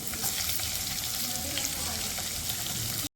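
Chopped green chillies sauté in hot oil, giving a steady, close sizzle with fine crackling that runs evenly and stops abruptly at the end.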